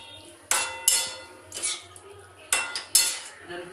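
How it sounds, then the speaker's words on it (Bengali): Chicken with onion and spices is stirred in a pan. A spoon scrapes and clanks against the metal in a few sharp, uneven strokes over a soft background sizzle. "ভালো করে নাড়িয়ে নেব কিছুক্ষণ, 1-2 মিনিটের মধ্যে ভালো করে নাড়াবেন এটাকে"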